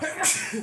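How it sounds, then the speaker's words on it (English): A single sneeze bursts out mid-conversation, a sharp hissing explosion with people talking just before and after, close to the listener. "Had a little sneeze."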